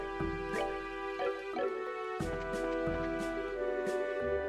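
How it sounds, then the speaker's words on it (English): Water drips echo faintly from a distance inside a video game, Trails in the Sky SC, scattered and soft over steady, sustained in-game music. "Perhaps because the sound of the water echoing from a distance is so nice"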